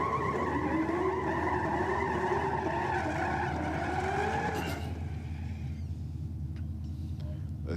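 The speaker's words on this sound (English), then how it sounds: "Those tyres squealing for mercy in the Commodore there." Holden Commodore tyres squeal loudly at a drag race, a sustained high screech with a rising pitch that fades after about five seconds, leaving rumbling engine and track noise.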